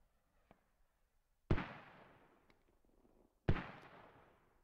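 Two heavy mortar impacts from the video game Squad boom a couple of seconds apart, each a sharp loud blast trailing into a long rumbling decay, with a faint thud beforehand.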